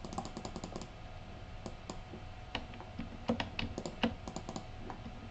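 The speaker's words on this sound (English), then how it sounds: "And I'll just click those away happily. Click, click, click." Rapid computer clicks and taps during photo retouching in Photoshop, with light, quick bursts of clicking coming close and fairly quiet, some louder individual clicks standing out.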